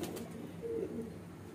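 A pigeon hen from a breeding loft coos softly and briefly at low volume, alone with no voices.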